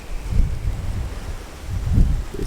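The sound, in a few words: strong wind blowing during Hurricane Ian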